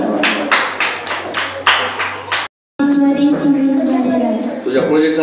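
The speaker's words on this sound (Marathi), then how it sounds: "यांच्यासाठी टाळ्या वाजवा." A school audience claps for a children's science project at a National Science Day event, with loud rhythmic bursts of claps, then a brief gap, then voices talking over the room.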